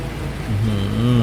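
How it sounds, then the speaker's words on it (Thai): Rain pours in Farming Simulator 19 as a loud, steady hiss layered over the low hum of a truck engine, with the pitch rising partway through. "ฝนตกเฉยเลย"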